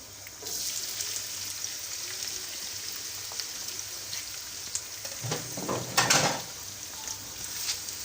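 Onions frying in hot ghee, giving a steady, fairly soft sizzle throughout with a brief louder burst of crackling partway through, no voices.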